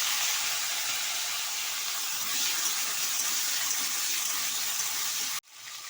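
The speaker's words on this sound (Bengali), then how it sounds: "এবার আমি রাঙা আলুগুলোকে দিয়ে দিচ্ছি।" Sweet potatoes dropped into a hot pan with oil and tempered chilies for a village-style hilsa curry, a loud continuous sizzling hiss that cuts off abruptly near the end, no voices.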